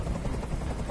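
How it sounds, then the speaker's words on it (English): A helicopter in the Detroit Become Human video game drones with a loud, continuous rotor rumble that fills the whole moment without a break. "I can't stand that noise anymore. Tell that helicopter to get out of here."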